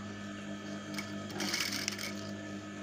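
Sewing machine stitching elastic into a child's palazzo skirt, a faint steady mechanical whir with a brief busier burst of stitching near the middle.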